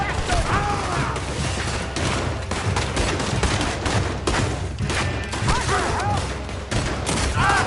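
Loud, chaotic volleys of gunfire in Red Dead Redemption 2, overlapping shots and bursts throughout a dense battle mix, with shouted voices mixed under the shooting.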